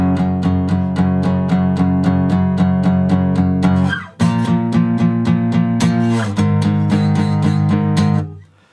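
An electric guitar in standard tuning plays the verse of a song, with steady rhythmic strummed chords, one brief gap midway, and close, loud sound that ends with the last chord.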